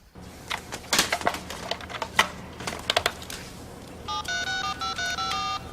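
Computer modem dialing up: a few clicks and key taps lead into a rapid sequence of electronic dial tones and handshake beeps, close and clear, without speech.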